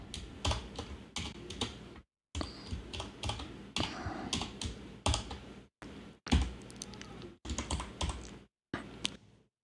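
Typing on a computer keyboard while writing HTML table code in the VS Code editor, with rapid clattering keystrokes arriving in bursts separated by brief silent pauses, recorded up close.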